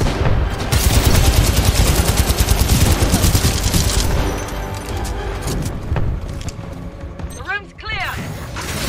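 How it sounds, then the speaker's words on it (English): Heavy sustained gunfire in the video game Titanfall 2 on hard difficulty, dense automatic fire and impacts roaring continuously and close, easing slightly near the end, with voices shouting over the battle. "Why are you shooting at me?"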